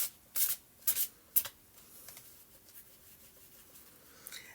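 Oracle cards being shuffled by hand: three quick, crisp riffling bursts up close, then softer rustling and handling that fades to near quiet.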